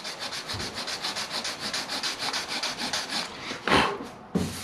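Fine sandpaper is rubbed across the painted body of an abandoned Volvo 245 in quick, even back-and-forth strokes, a close raspy swish, ending with a couple of louder scuffs.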